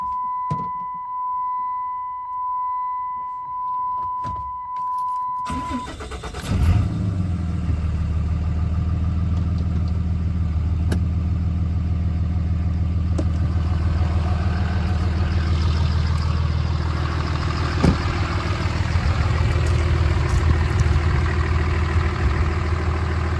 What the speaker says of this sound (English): I'm going to fire it up, let you hear the engine run